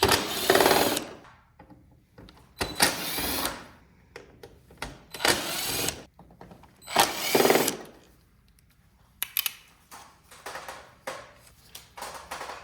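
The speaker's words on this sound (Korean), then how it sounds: "전동 드라이버로 고정 나사를 풀어줍니다." An electric screwdriver whirs in several short bursts of a few seconds each, close by, with brief quiet pauses between runs, undoing the fixing screws on the head of a Samsung Wind-Free standing air conditioner.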